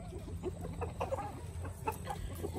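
Silkie hens foraging with their chicks, giving a run of soft, quick clucks at close range over a low steady background hum, with no voices.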